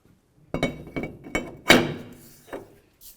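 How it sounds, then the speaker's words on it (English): A brake rotor on a 2002-2006 Honda CR-V is fitted onto the wheel hub, giving a handful of close, separate metallic thunks and light clinks with quiet gaps between them. "Go ahead and make sure all the holes line up and put the rotor on."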